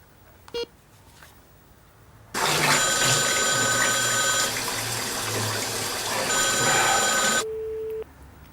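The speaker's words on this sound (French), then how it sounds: "Et ça sonne. Comme un téléphone normal, ça sonne." A telephone rings after a call is dialed: a short tone, then a loud continuous electronic ringing that holds for about five seconds, cuts off, and is followed by a brief single tone.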